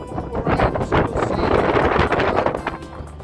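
Gale-force wind buffets the microphone on an exposed beach lined with beach huts, with rain falling, producing a loud, continuous roar and rumble that gusts and swells throughout.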